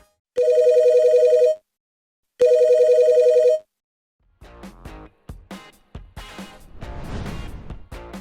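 A classic telephone bell ringtone rings loudly in two separate, evenly spaced bursts, each about a second long, with a gap between them, before music takes over.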